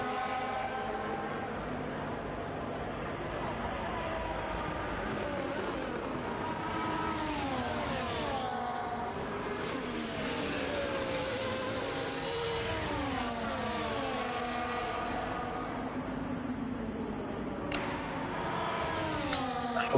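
Several race cars in a racing video game run close together on an Australian circuit, engines whining and revving through continuous up-and-down pitch sweeps, steady and fairly loud throughout.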